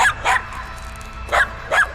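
Neighbors' dogs bark next door in a residential setting, four sharp barks in two pairs, fairly close and loud, with quiet background between them.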